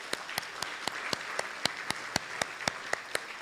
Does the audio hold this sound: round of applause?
yes